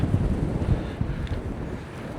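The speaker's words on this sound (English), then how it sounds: "It's windy though." Steady wind gusts buffeting the microphone outdoors in Weitchpec, California along Highway 96, a low rumbling roar with soft fluctuating surges and no speech.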